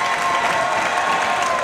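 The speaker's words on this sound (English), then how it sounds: "First time the fans had anything to cheer about tonight, to be honest with you." Needham fans at a 2013 state semifinal volleyball match against Agawam cheer and clap in a dense, steady wash of applause filling the gym for the whole moment.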